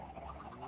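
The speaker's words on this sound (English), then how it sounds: "The amount of chickens that I hear is absolutely terrifying." Chickens in a building video game cluck and squawk in a busy overlapping chorus, a continuous fowl clamor with no voices over it.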